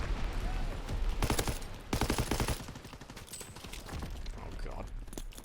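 Rapid machine gun fire from Call of Duty WW2 in long, dense bursts, loud and close, with overlapping game noise underneath.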